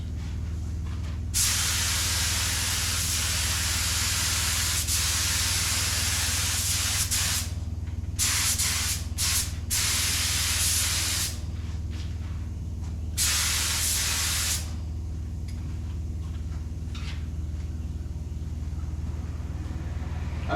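Rust-Oleum candy blue paint sprays from a can onto a car fender in a shop, loud hissing bursts of varying length starting and stopping over a steady low hum.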